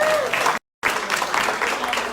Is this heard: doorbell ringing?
no